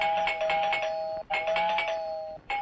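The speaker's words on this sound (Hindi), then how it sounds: "ये घंटी कुछ लंबी नहीं बज रही" An electronic doorbell chiming a repeating melodic pattern, ringing insistently in two long bursts with a short break between, clear and close.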